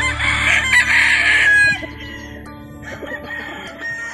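A tornado hatch straight comb gamefowl rooster crows once, loud and close, followed by softer clucking and farm background noise.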